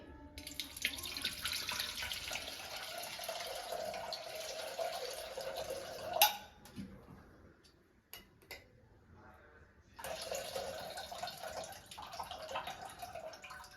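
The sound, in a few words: cold water poured into cream to rinse out sourness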